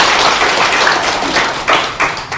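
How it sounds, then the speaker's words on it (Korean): An audience claps to welcome a speaker at an event, a burst of steady applause with a few louder claps near the end. "다 같이 박수로 환영해 주십시오"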